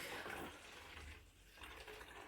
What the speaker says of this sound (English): use a funnel if you've got one, or just very carefully pour with a jug